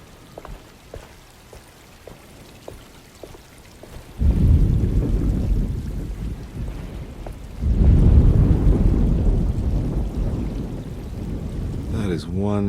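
Rain and a rolling thunderstorm in the Alone in the Dark video game, heavy rainfall building in two loud surges with low rumbling thunder, near and enveloping, after a quieter stretch with faint ticking drops.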